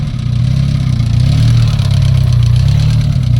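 Car engine idling steadily right after being jump-started with a VOIN LV 150 jump starter, a loud, close, continuous low rumble with no talk over it.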